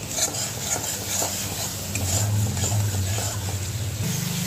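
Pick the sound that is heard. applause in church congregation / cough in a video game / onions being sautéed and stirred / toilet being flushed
onions being sautéed and stirred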